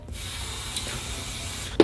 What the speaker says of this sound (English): I'm gonna spray in the back of my hand.